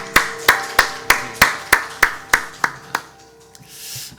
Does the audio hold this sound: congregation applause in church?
yes